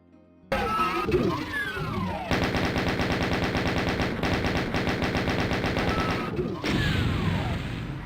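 Doom II chain gun firing in continuous rapid bursts with a dense, loud, steady rattle, briefly broken and then resumed, over in-game ambience.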